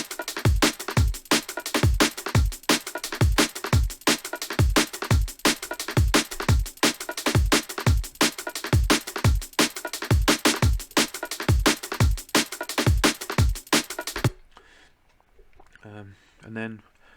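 Drum loop with a hi-hat part added, a steady, evenly spaced pattern of punchy low kicks with crisp hats ticking between them, loud and alone for most of its length before dropping to a quieter, sparser tail.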